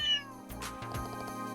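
A character in the video game Trails in the Sky meows like a cat, a short loud meow at the start followed by game music and effects; a voice imitates the cat.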